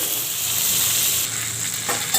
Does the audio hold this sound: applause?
no